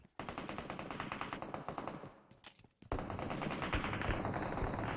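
Automatic gunfire crackles in a firefight in the game PUBG Mobile, with fast, loud bursts of rapid shots that break off briefly and then start again in a denser stream.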